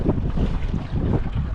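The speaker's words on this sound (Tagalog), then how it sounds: "Ang hangin." Strong wind buffets the microphone with a continuous low roar and rumbling gusts, heard alone and close throughout.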